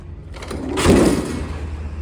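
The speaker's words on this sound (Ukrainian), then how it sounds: "Відкрив двері, зайшов." A trailer door slides open with a short rolling scrape that swells and fades, fairly close, with no talking.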